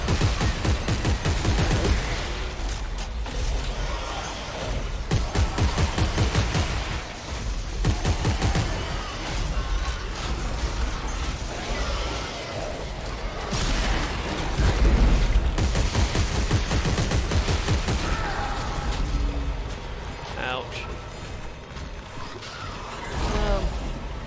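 Sustained weapon fire and clanking mechanical effects in the sci-fi horror shooter Dead Space 3 keep up a dense rattling barrage for over twenty seconds, steady and fairly loud with only brief dips.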